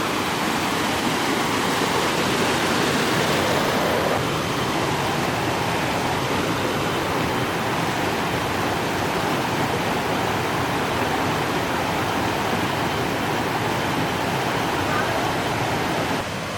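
Muddy floodwater rushes past after a cloudburst in a hill village, a loud, steady, broadband roar that fills the whole stretch without a break.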